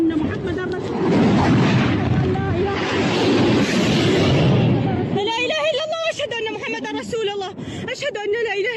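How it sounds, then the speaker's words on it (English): Secondary explosions from war footage in Ukraine, a sustained roar of booms and rumbling blasts for about five seconds, then quieter crackling with voices talking over it. "more secondary explosions are happening pretty much right over"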